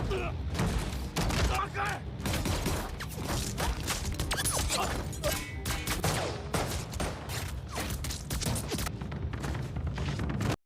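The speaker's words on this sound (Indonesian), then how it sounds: "ketika suara tembakan meledak dari dalam bangunan" Gunfire bursting from inside a building in the thriller film Night in Paradise, dense rapid cracks and crashing impacts layered over loud, busy cinematic sound throughout, with voices mixed in.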